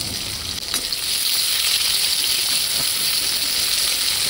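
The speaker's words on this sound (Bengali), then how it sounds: "এবার নাড়াচাড়া করে পেঁয়াজটাকে" Chopped onion fries in hot oil with spices for a taro-stolon and shrimp curry and is stirred in the pan. A constant bright sizzle plays close up, with a few scraping stirs early on.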